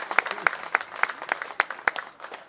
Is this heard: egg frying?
no